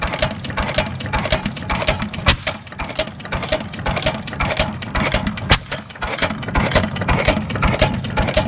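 6 HP IHC Famous hit-and-miss stationary engine running: a loud, close, continuous mechanical clatter with sharp knocks and rattles recurring throughout.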